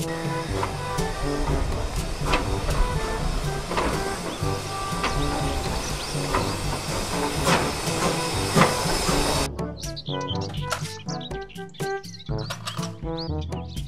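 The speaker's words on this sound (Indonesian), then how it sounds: "Kereta Thomas." Loud hissing steam and rattling noise of a Thomas steam train with a rhythmic mechanical chug, followed by a sudden switch to bright tonal jingle sounds.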